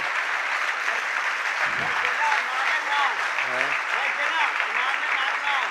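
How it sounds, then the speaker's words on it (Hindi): Sustained applause from an audience at a Jain religious discourse, steady and loud throughout with a brief low thump midway. "बस ये तालियां बजाते रहो बस"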